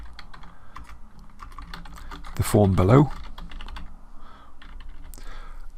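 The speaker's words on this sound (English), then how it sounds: "we were just typing here something like" Fast, light clicks of a computer keyboard being typed on, steady and close throughout the clip, briefly under a person talking in the middle.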